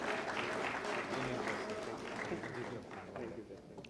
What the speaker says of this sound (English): Loud applause, everyone.